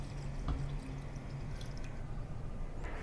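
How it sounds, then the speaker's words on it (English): Liquid is poured into fried taro rice inside a rice cooker, giving a steady close splashing trickle with a few drips throughout. "Now pour the liquid into the rice."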